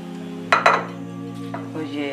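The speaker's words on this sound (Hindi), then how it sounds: "हमने एक प्रेशर कुकर लिया है, इसमें ये हम चिकन डालेंगे" Chicken pieces go into a pressure cooker for shami kabab, giving two sharp clattering knocks close up, then a few softer clinks and scrapes of metal.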